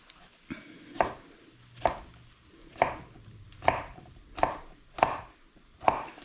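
Santoku knife chopping vegetables on a cutting board in a home kitchen, seven evenly spaced sharp thunks about a second apart, close and clear with no talk.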